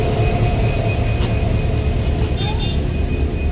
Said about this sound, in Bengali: ট্রেনটি এখন কাউনিয়ার উদ্দেশ্যে রওনা হচ্ছে